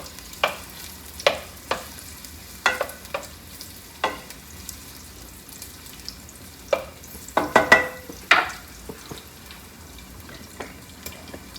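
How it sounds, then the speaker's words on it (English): Onions being stirred in a pan while cooking penne pasta, with soft scraping and sizzling strokes spaced irregularly, growing busier and louder toward the end. "Give them a little stir."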